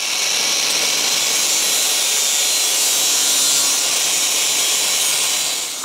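A steady, loud, broadband rasp runs without a break, consistent with sawing or trimming a panel to fit during the clean-up of a David Brown 990 tractor. It stays close and continuous with no voices.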